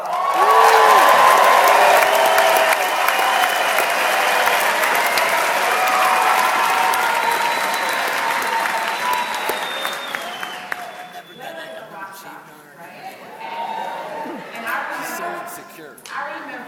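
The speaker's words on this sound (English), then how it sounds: "you guys give her a round of applause" Loud audience applause with cheers and whoops at a women's empowerment event, strong at first and then fading as a voice starts talking over the thinning claps.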